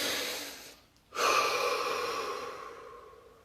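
One deep breath is drawn and slowly let out, close and breathy, during a guided relaxation session, a short inhale followed by a long fading exhale with no talk.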